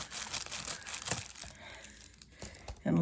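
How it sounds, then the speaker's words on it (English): An envelope is cut open, giving a short stretch of close crinkling and tearing of paper that fades near the end before a brief louder thump. "I'm just going to cut this envelope."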